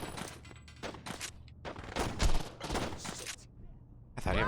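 Gunfire in the Saints Row video game, a string of loud overlapping automatic bursts and shots with brief gaps, mixed with game sound and some voices.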